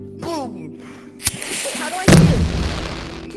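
Gunfire in the VR game Rec Room: two sharp shots about a second apart, the second a heavier boom, with people talking around them.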